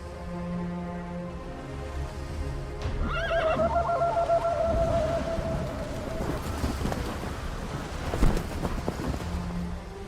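A wild horse gives a long, loud whinny in snowy Xinjiang, surrounded by wind noise and scattered hoof clops, with a softer snort near the end.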